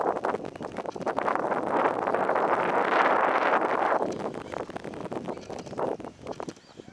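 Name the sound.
wind blowing outdoors at a bridge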